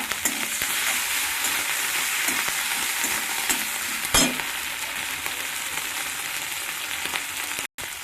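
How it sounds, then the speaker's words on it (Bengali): Onion paste frying and being stirred in a pan, after ginger-garlic paste was added, giving a steady close sizzle throughout with a brief louder scrape midway and a short dropout near the end. "এবার আমি পেঁয়াজের পেস্টটা দিয়ে দিলাম।"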